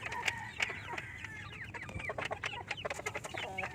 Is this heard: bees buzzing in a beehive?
no